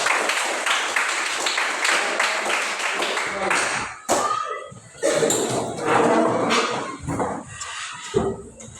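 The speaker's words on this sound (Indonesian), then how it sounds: "Oke, tepuk tangan untuk kita semua." A class of children claps in a fast, rhythmic burst close by; the clapping then breaks up into scattered taps, bumps and voices talking.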